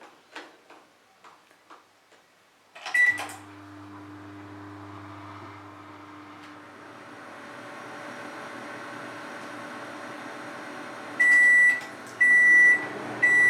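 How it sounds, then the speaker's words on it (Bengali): A microwave set to convection mode at 180°C starts up after a few button taps, then runs with a low steady hum and fan whir, ending in several loud beeps. "চকলেট মাফিনগুলো তৈরি করার জন্য সবার প্রথমে আমাদের মাইক্রোওয়েভটাকে প্রিহিট করতে হবে।"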